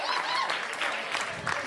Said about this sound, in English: Man, round of applause